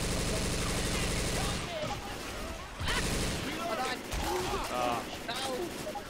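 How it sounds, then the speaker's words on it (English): Left 4 Dead 2 PvP gunfire, a dense sustained fusillade then scattered loud shots and bursts amid chaotic game noise, with overlapping voices. "Shooting each other."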